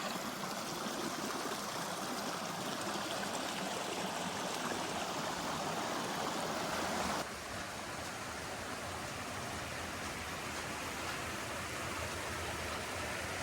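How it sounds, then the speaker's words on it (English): Stream water rushing at a trail crossing after several days of rain, a steady broadband gurgling wash that continues unbroken and drops slightly in level partway through. "Our first water crossing."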